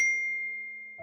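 A message-sent notification ding rings out as a single clear bright chime that sustains and slowly fades, followed by a brief soft blip at the end.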